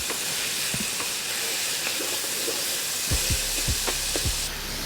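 Tomato paste and softened onion fry steadily in a pan, a continuous close sizzle with occasional spoon-stirring knocks and scrapes toward the end, no talking.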